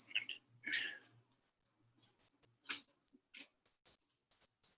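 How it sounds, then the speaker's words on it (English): An indoor cricket chirps in short, repeated bursts inside a room, fairly close, with scattered clicks and faint voice fragments between the chirps. "There's an actual cricket in my room and it's so loud."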